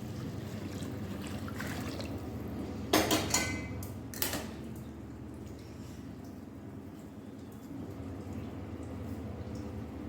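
Boiled water is poured into a tomato papad mix in a home kitchen. Metal clatters sharply in two short bursts partway through, over a soft, steady liquid trickle.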